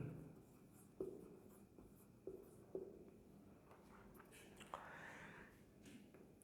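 Chalk or marker writing on a board during a Class 8 maths lesson, with a few distinct taps and scratchy strokes at a faint level against a quiet room.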